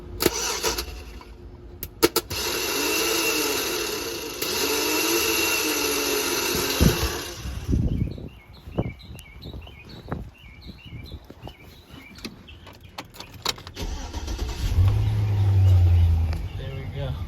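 A 1999-2007 Chevy Silverado engine cranks for several seconds, then catches and starts, followed by clanking and tool noises nearby.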